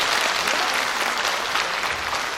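Audience at an Incheon rally applauding warmly, a dense, steady wash of clapping from many hands that holds loud and even throughout with no talking over it.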